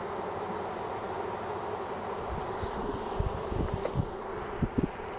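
A colony of package honeybees hums steadily while being installed into a hive, with low wooden knocks and bumps from the frames near the end, close and without speech.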